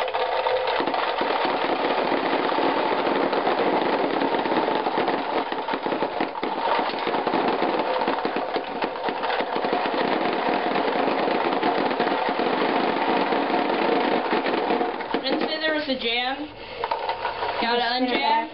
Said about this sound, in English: once again, that's the Hard Corps Torque. 440 loudmouth, 35 balls per second